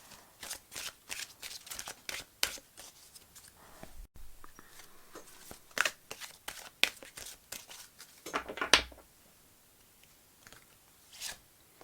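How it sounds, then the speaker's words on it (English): Romance Angel oracle cards are shuffled by hand, a close, soft flutter of repeated riffles and card slaps in a steady rhythm, with a brief pause and no talking. "let me get some oracle cards now from, let's see what we get from the Romance Angel cards."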